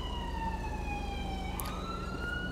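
A wailing ambulance siren in GTA V with the LSPDFR police mod, a steady sweeping tone that shifts pitch partway through, heard clearly over a constant low engine rumble on Portola Drive.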